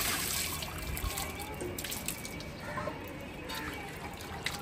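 Water runs from a tap in a steady splashing stream, close and fairly loud, with faint sounds of movement around it.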